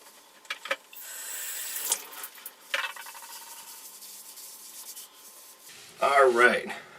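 Dawn dish soap being rubbed hard into greasy, product-laden hair: irregular wet squishing and scrubbing that comes in uneven bursts, growing louder and more sloshy near the end.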